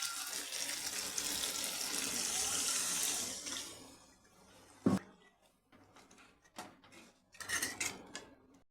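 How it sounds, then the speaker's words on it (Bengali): Water poured into a pan of cooked-down spiced curry masala for fish roe curry, a loud steady rushing splash for about four seconds, then quieter scattered clinks and stirring sounds. "এবার আমি পরিমাণ মতন জল দিয়ে দেবো।"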